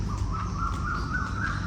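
Birds singing around a residence in Phuket, Thailand, with a clear, repeated chirping call carrying over a steady low background hum, no voices present.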